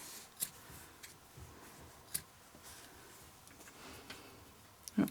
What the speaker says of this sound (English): So we're going to just snip.